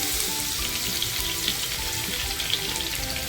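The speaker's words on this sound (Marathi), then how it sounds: "बऱ्यापैकी तेल टाकते तेल टाकलेलं आहे लसूण टाकते" Garlic sizzles in plenty of hot oil while a Marathi-style masala for kurli crab fry and curry is prepared, giving a steady, dense crackling hiss with scattered small pops throughout, close and alone.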